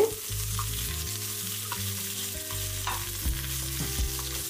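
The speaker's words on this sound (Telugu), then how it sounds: "4 మామిడికాయ ముక్కలు కూడా వేస్తున్నాను. ఇవి కూడా ఒక 1 మినిట్ వరకు ఫ్రై అయితే సరిపోద్ది" Raw mango pieces frying in a pan for an uttapam side dish, a steady soft sizzle with faint stirring scrapes and low background hum, close and alone without talk.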